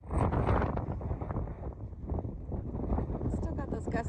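Strong gusty wind on the Pacific Crest Trail buffets the microphone in a continuous roar, rising and falling slightly throughout.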